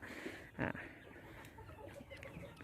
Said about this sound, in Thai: นี่ไก่ก็สวยนะครับ สุขภาพแข็งแรงนะครับ